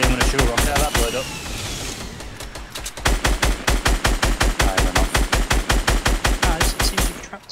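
Rapid automatic weapon fire and explosive blasts in a Fortnite battle royale match, a dense run of loud evenly spaced shots with a brief lull partway through and talk underneath.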